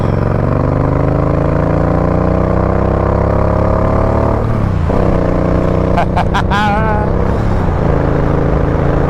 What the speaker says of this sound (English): This bike is very distinguishable by its exhaust,